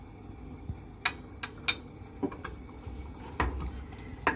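Onions sauté in sunflower oil with a soft, steady sizzle, broken by scattered clicks and scrapes of a utensil stirring against the pan, close and fairly quiet.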